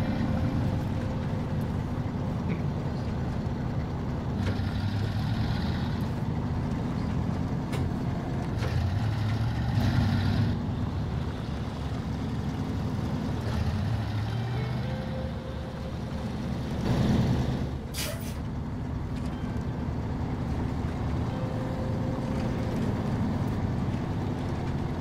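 A truck drives in Snowrunner toward a bridge, a steady low engine drone rumbling on with occasional creaks and clunks, no talking.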